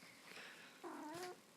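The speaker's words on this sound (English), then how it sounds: "Firstly, there's my cat." Pet cat at home making a soft, faint murmuring meow and a brief rising chirp, close by in a quiet room.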